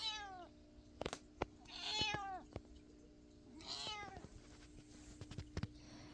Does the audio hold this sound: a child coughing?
no